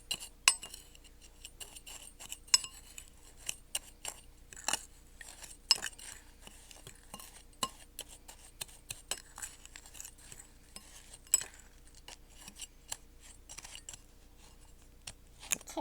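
A fork mixes flour, sugar, cinnamon and salt in a bowl for a coffee cake, making soft, irregular clinks and scrapes against the bowl at close range, with quieter scraping between the louder taps.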